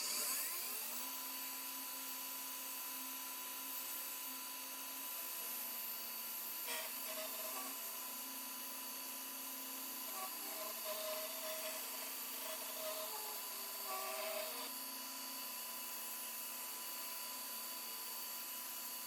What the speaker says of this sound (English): it only took about 2 minutes of grinding to achieve this finish